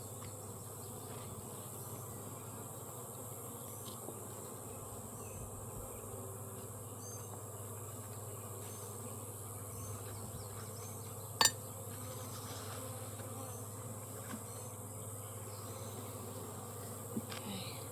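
Honeybees drone softly and continuously inside an open hive while frames of new comb with pollen patties are handled, with one sharp click partway through and no talk.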